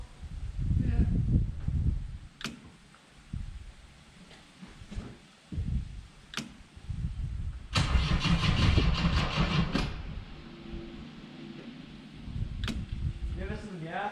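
A 1969 Opel GT engine cranks and catches amid clanks and workshop noise, with a denser rough burst of running or revving midway, then settles lower, while people talk nearby.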